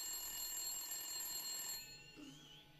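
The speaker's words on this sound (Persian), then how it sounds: "تلفن" A telephone rings in a dubbed drama scene, steady electronic tonal ringing for nearly two seconds before stopping, leaving quiet room tone.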